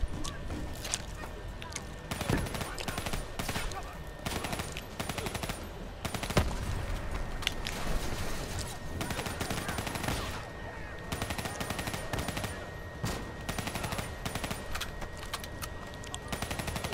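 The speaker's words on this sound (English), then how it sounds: "you can't hide from his gunfire, boy" Black Ops 3 campaign gunfire: rapid bursts of automatic fire and single shots crackle throughout, mixed with other game sounds and an occasional voice.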